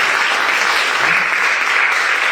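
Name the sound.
applause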